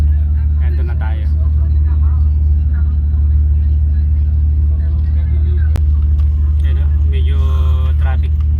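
Road traffic hums steadily from inside a car, a loud, constant low engine and road rumble with occasional passing vehicles, while people talk softly over it.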